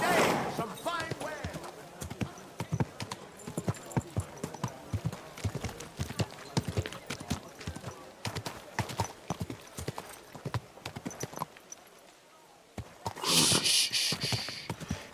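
Horse hooves clip-clopping in the video game Kingdom Come: Deliverance II, a steady close rhythm of hoofbeats with a short pause near the end, while a voice speaks to the horse over them.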